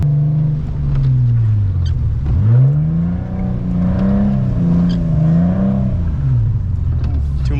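Car engine revving while drifting on a slippery, rain-soaked road in a hurricane, a loud close drone that rises and falls in repeated swells as the throttle is worked, over wind and road noise.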